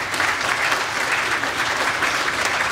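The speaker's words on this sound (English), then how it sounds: "Let's give them a round of applause." An audience applauds at a dedication ceremony for a new veterans outpatient clinic, giving a full, even round of clapping that stays loud and steady from start to finish, with no speech over it.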